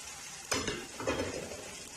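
A spatula stirring scrambled eggs into cooked peas in a hot pan, two quick scraping strokes over a soft steady sizzle.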